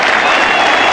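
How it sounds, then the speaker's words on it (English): Dense, steady applause from a large crowd at Headingley cricket ground, greeting Geoffrey Boycott's hundredth hundred during a test match against Australia, loud and continuous. "The England players come out to applaud what really has got to be a moment here of cricket"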